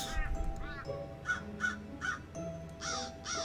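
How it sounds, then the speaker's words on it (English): Crows cawing in the PC video game Mystery Trackers: Queen of Hearts, island setting, with several harsh caws repeating in bursts over a steady low background hum. "These crows aren't afraid of me."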